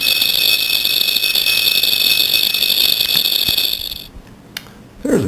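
A bare, opened 7,200 RPM hard disk drive spins its exposed platters with a loud, steady high-pitched whine and hum that cuts off near the end, followed by a few small clicks.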